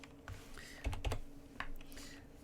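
Computer keyboard typing in short, uneven bursts of close, crisp key clicks over a quiet background, with no one speaking.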